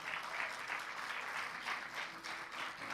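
A church congregation gives a hearty round of applause, a soft but steady patter of many hands with gentle rhythmic swells, heard from some distance and without talking over it.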